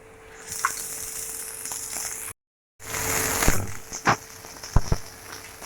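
Shredded cabbage tipped into a hot pan over full flame for a street-style veg momo filling, giving a broad steady sizzle with a brief break, then sharper crackles and clatters as the vegetables hit the oil.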